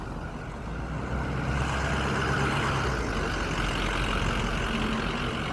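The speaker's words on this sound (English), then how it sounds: "there's got to be this noisy truck behind me." A steady, loud rumble of a truck engine fills the background, constant throughout with no talking.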